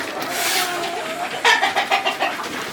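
Chickens cluck and peck on the floor of a coop during feeding in a snowstorm, with a patter of rapid pecks like rain and bursts of close clucking toward the end.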